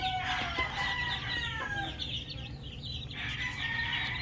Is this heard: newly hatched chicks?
yes